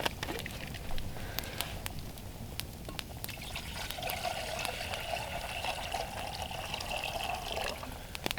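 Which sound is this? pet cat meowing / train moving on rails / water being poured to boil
water being poured to boil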